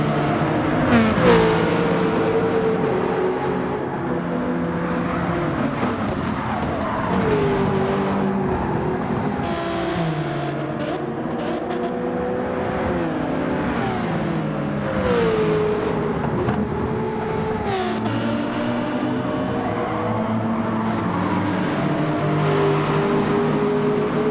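Race cars in Gran Turismo 7 during a daily online race, with engines revving and shifting through the gears on a close pack of cars, a continuous loud whine rising and falling with several cars passing nearby.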